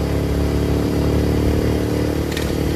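A Yamaha TFX150 motorcycle engine while riding at speed, a loud, steady close-up drone with a sustained harmonic hum and wind noise and no talk over it.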